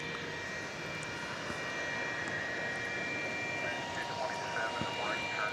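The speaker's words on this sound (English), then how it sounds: "Lining up for takeoff now, American 227 and Airbus A319 headed to Tulsa, Oklahoma." Airbus A319 jet engines roar steadily as the aircraft lines up for takeoff at DFW Airport at night, a continuous broadband rumble with a faint high whine throughout.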